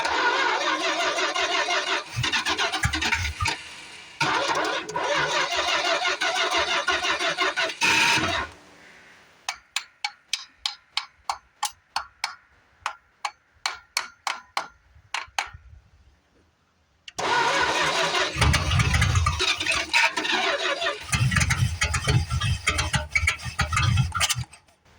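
A 1973 Fury III engine cranks and roars loudly, cuts out, then a starter clicks and turns over in a rapid series of bursts before the poorly running engine catches and runs roughly again.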